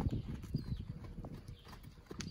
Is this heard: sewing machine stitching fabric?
no